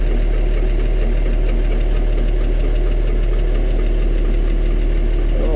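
Kubota M7 tractor with a direct-injection diesel engine idles steadily after a cold start, a loud, close, even rumble with a faint knock running unbroken throughout and no voices.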